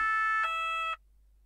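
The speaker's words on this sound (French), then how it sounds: "il a la sirène de mise" A French gendarmerie emergency vehicle's two-tone siren, clear steady tones switching pitch twice before cutting off, loud and alone.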